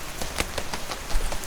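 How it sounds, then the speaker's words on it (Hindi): Steady rain patters down with dense, even hiss and scattered soft drips throughout, alone with no voices. "बारिश तेज होती जा रही है।"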